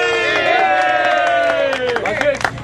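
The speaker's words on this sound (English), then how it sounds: "Can I hear a round of applause, please? Yes! With that innocent shouts and cheerings." Audience at a stage event clapping and cheering beneath a sustained, high shouted voice, with a busy crowd texture of claps and yells building toward the end.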